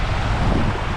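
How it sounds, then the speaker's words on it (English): A fast-flowing river on open fell country gives a steady, loud broadband rush with no breaks and no talking over it. "it's quite a fast flowing river"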